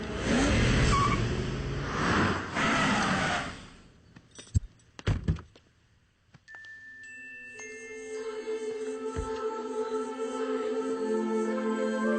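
Cars start and drive off: a burst of broad noise, then several sharp door-like thunks, followed by engines humming and building as the vehicles pull away, with no speech.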